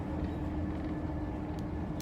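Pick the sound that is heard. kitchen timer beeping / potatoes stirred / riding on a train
riding on a train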